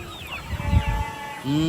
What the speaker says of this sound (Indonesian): Ini yang ayam. Ini ayam pejantan